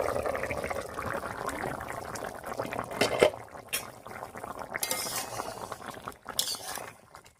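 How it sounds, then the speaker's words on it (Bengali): A cooking pot's lid is lifted and the pot of shol fish curry with potato, eggplant and drumstick is taken off the heat: metallic clinks and soft liquid movement, with a brighter clatter near the middle and quieter clanks after. "এবারে ঢাকা খুলে নামিয়ে নিচ্ছি।"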